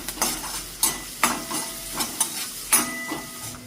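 Mint leaves and onion for a chutney frying in a pan, stirred with a spoon in steady scraping strokes about every half second over a soft sizzle, close and alone.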